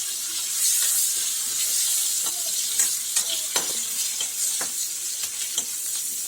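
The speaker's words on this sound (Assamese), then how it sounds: "অলপ সময় পিঁয়াজখিনি এনেকৈ ভাজিব" Onions and two bay leaves frying in a pan for an Assamese fish curry with jute leaves, a steady close sizzle with the occasional scrape and stir of a utensil.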